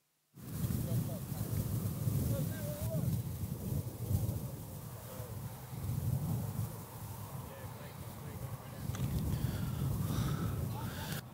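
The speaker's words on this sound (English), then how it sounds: "the wind's starting to pick up" Wind gusts buffet the microphone outdoors at an American football game, a steady rumbling roar that swells and eases in waves, with faint voices underneath.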